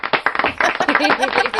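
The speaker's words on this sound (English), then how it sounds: "this round of applause is all for you" A brief round of clapping from a small group at a Light Up the Park arts guild event, close and uneven with distinct hand claps, and a voice mixed in with it.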